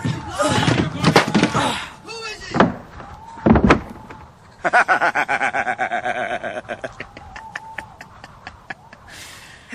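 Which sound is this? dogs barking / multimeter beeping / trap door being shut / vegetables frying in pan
trap door being shut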